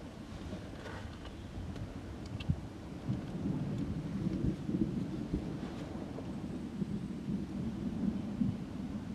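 Thunder rumbles steadily through a nighttime thunderstorm with frequent lightning over the Kansas plains, a low continuous roll mixed with rain hiss and wind, distant rather than close, with no voices.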